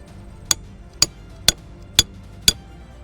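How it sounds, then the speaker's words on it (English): A hammer striking a hard object five times, evenly spaced about half a second apart, each a sharp close metallic knock with a brief ring, alone with no talking. "hammer."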